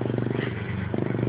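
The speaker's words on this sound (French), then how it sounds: "On dirait un moteur de 250." A newly fitted 250 cc engine runs steadily at close range, a low pulsing drone with a brief dip in the middle, no talk over it.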